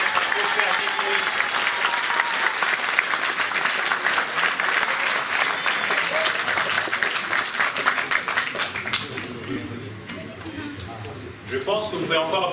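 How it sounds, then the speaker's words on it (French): Sustained audience applause fills a pétanque tournament trophy ceremony in Paris, dense clapping holding steady before thinning near the end, with a voice emerging over the fading claps. "vous pouvez encore applaudir Cheikh Moïse."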